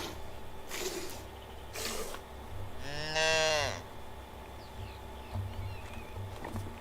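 Cows moo while being milked in the medieval survival game Medieval Dynasty: one long, loud, pitched bellow sounds alone, with a few soft rustles before and after it.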